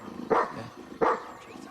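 Two sharp, mid-pitched barks from a dog, spaced about a second apart, fairly close and clear against a quiet background.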